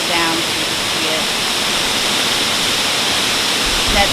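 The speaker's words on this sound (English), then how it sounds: "we're enjoying the view of this waterfall behind me" A waterfall in a national forest near Rio de Janeiro gives a close, continuous broadband roar of rushing water that stays steady and loud throughout, with no voices.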